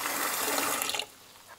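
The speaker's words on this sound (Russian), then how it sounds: "Там есть раковина, сейчас мы наполним ее водой и посмотрим," Tap water runs steadily into a sink basin being filled to test winter motorcycle gloves from Kemimoto, a broad splashing rush that stops abruptly about two-thirds through, leaving near-quiet room tone.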